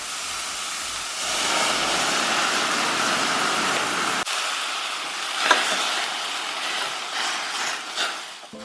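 Food sizzling with water in a stainless steel pan on a home stove, a loud, steady hiss and crackle that drops in intensity partway through and keeps spitting irregularly, no voices.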